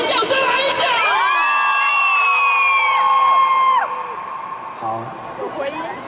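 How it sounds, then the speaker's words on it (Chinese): A concert crowd at a Taichung fan-signing event for a singer screams and cheers loudly in a sustained, rising chorus of high voices that fades near the end, followed by a few scattered shouts. "尖叫声来一下。"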